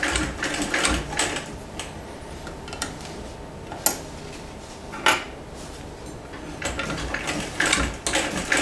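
A vintage Singer 206K sewing machine zigzag stitching through denim, its rapid mechanical ticking and clatter running steadily with a few sharper knocks, close and fairly quiet, with no voices.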